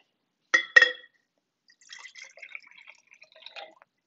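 Water drips twice in quick, clear plinks, followed by faint scattered trickling and small droplet sounds in a quiet space.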